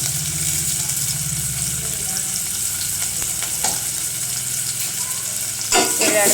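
Chopped onions frying in a pan in a home kitchen, a continuous loud sizzle with stirring scrapes and a few utensil knocks near the end.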